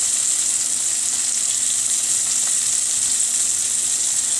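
Saganaki cheese frying in a pan on a stove set to medium-high, giving a steady, even sizzle that stays constant throughout, close by with no talking.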